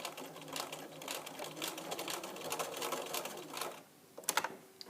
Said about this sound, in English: So you're sewing right to the top of the bias binding,